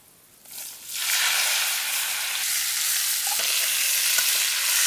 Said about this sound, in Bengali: হালকা একটু তেলে ভাইজে নিচ্ছি